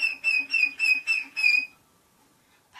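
A series of short, high, whistly squeals from a violin imitating a seagull's cry repeats about five times in a rhythmic pattern, then fades to quiet.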